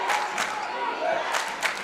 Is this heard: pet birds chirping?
no